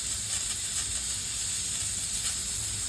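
A pressure cooker cooking rice releases a continuous hiss of steam, steady and fairly loud, with no pauses or voices.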